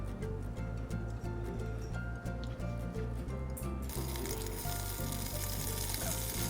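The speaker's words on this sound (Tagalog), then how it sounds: "maglagay na tayo ngayon ng oil sa ating pan para maprito na natin ang ating tofu" Tofu coated in diluted cornstarch fries in hot oil in a pan, giving a steady close crackling sizzle. The spitting grows denser and brighter partway through.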